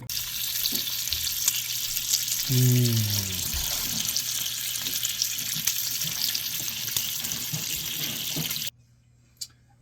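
Homemade bacon sizzles and crackles steadily in an old number 5 cast-iron pan, a dense close frying hiss that runs for most of the clip before cutting off abruptly, followed by a faint knock.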